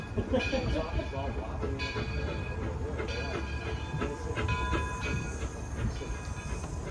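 A steam train rolls in close by with a continuous rumble, clanking of cars and high metallic squeals from the wheels and brakes.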